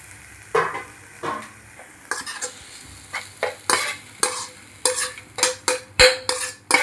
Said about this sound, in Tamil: மாவோட இதில் சேர்த்து நல்லா கலந்துடலாங்க.